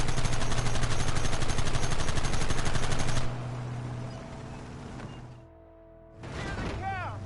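A machine gun in Red Dead Redemption (2010) rattles in a dense, continuous loud burst for about three seconds, then gives way to quieter battle ambience.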